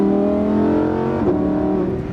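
Loud, close engine note from a Lamborghini Huracan Performante revving smoothly under acceleration, with a brief dip around a quick upshift before pulling on again.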